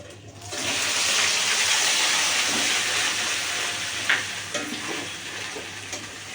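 Onion paste hits a hot pan and breaks into a loud, steady hiss and sizzle that carries on without pause, close up, with a few faint clinks toward the end.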